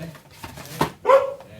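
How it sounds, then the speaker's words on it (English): A pet dog gives a single short, sharp bark, preceded by a few faint huffs and movement sounds in a quiet indoor room. "that's my dog"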